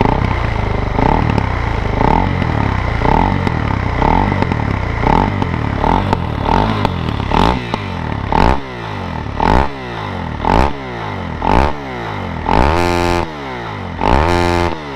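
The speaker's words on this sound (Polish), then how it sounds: "Wolne obroty, nawet takie, można powiedzieć, bardziej basowe niż były." A supermoto motorcycle fitted with a new exhaust idles with a deep, lumpy, bassy putter up close, then the throttle is blipped several times in quick rhythmic revs that rise and fall back.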